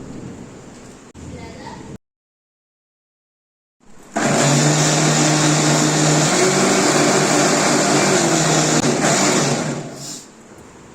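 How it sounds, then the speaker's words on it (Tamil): After a short stretch of background noise and a silent gap, a mixer grinder grinding cooked bottle gourd starts with a loud, steady roar that lasts about six seconds before winding down. "ஆற விட்டு மிக்சியில் நல்லா அரைச்சிக்கோங்க"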